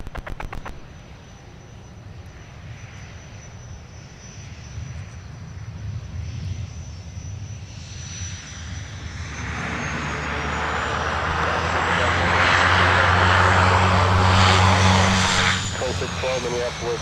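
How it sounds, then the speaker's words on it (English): Delta flight 2612 from Nashville landing at Minneapolis airport, its broad aircraft engine roar swelling from faint to loud and holding near, with radio voices talking underneath. "And now touching down from Nashville, flight 2612 for Delta."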